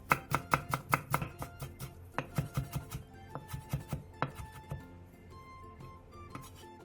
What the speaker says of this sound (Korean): 깻잎 2장에 꼭지를 떼어낸 뒤 잘게 다져주세요